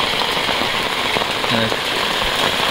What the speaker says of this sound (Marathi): हे बघा आता पावसाला सुरुवात झाली एकदाची भरपूर